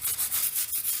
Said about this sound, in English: I'm going to get a little brush on these bolts first.